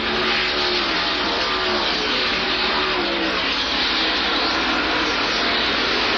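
NASCAR stock cars at the 1988 Budweiser 500 roar down the straightaway in a dense, continuous wall of engine noise, loud and steady for the whole stretch with no break or voice.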